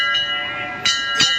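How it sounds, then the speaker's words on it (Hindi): A temple bell struck at the Sheetla Mata shrine, two bright metallic rings about a third of a second apart with lingering tones, heard close amid a steady crowd hum. "ये मैंने माता रानी के दरबार की घंटी बजाई है।"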